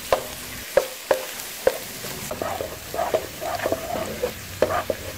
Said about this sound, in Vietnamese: Rồi để lửa lớn phi thơm tỏi.